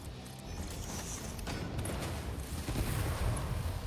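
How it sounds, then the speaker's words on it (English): Distant explosions in the video game Satisfactory make a low, rumbling, crackling wash of blasts that swells slightly toward the end, fairly faint overall. "Sound of explosions."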